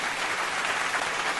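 An audience claps in a brief, dense, even burst of applause, with no voices over it.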